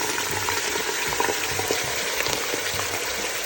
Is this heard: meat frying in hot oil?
yes